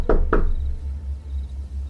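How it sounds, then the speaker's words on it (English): Two hard knocks on a solid wood door, loud and close in quick succession, followed by a low steady hum and near silence. "I just knocked really hard."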